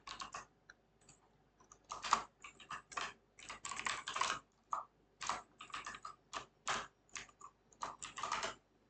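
Steady typing on a stiff computer keyboard, keys clacking in uneven bursts with brief pauses, close and fairly loud, no voices.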